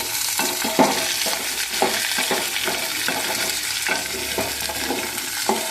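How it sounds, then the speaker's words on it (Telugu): Large-cut onion pieces sizzle steadily in a pan for a gutti vankaya curry, a loud continuous frying hiss broken by a few scraping stirs, with no talk. "పెద్ద ముక్కలుగా కట్ చేసుకొని వేసుకొని వేయించుకోవాలి."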